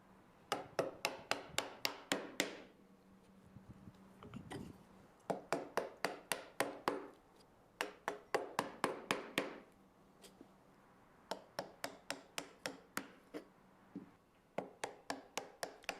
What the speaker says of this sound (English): I use a smaller chisel to help me get into those tight places